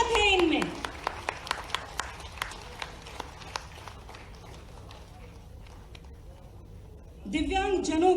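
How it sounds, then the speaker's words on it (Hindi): An audience at a government event in Bhopal claps in a steady, evenly spaced rhythm that fades out over a few seconds, followed by a speaker's voice on a PA system. "इनका हौसला अफजाई के लिए तालियां बजनी चाहिए।"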